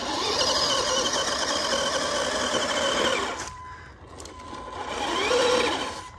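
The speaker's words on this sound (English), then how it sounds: "Just wheel spinning there, peeps." A Tamiya King Hauler RC truck's electric motor whines loudly as its wheels spin without grip while trailing off road, then drops off briefly before revving up again.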